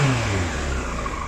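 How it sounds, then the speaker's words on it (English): A quick throttle blip on a Yamaha R1 5JJ motorcycle engine under restoration, a short rising rev that falls back to a steady mid-pitched idle, close and alone. "just give it a quick blip on the throttle"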